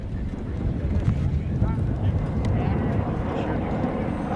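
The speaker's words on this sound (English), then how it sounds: "A little windy today." Wind whips across open desert sand dunes at a film shooting location, a steady low roar buffeting the microphone with gusty rumbles and no pause throughout.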